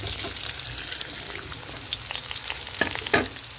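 Garlic, onion and meat for pancit fry in a pan with a steady sizzle, broken by a few sharp stirring clinks and scrapes near the end; no talking.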